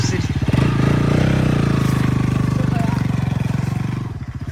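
A motorcycle engine runs loud and close on a rough, potholed uphill track, its throbbing exhaust pulses steady and strong throughout before easing slightly near the end.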